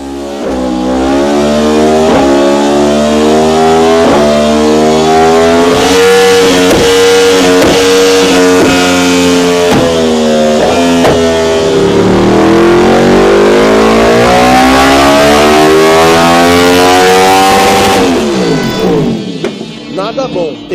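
A motorcycle engine revs hard and continuously, its pitch rising and falling through repeated throttle blips, loud and close, with a falling sweep near the end as it drops off.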